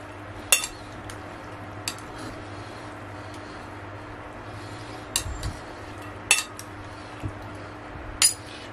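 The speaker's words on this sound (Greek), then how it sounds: "Ανακατεύουμε καλά." Utensils clink against a bowl while ingredients are stirred, a handful of sharp separate taps and knocks scattered over a quiet background.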